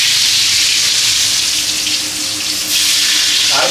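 Potatoes dropped into hot mustard oil, a loud, steady frying hiss and crackle filling the kitchen, dense and continuous with a brief dip partway through.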